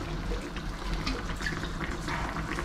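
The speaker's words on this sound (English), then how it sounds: "I'm going to put a bit of brandy into it." Brandy pouring and splashing into a cooking pan, a soft continuous liquid trickle lasting a few seconds, fairly quiet and close, with no talking.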